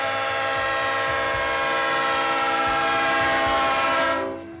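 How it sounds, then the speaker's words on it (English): Freight train passing at a rail festival, with steady loud rumbling and wheel clatter, a prolonged horn sounding throughout, the roar fading away at the end. "Here we are treated to a passing freight train."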